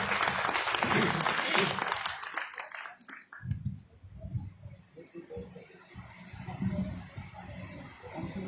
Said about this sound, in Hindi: एक बार जोरदार तालियों से इनका भी स्वागत किया जाए।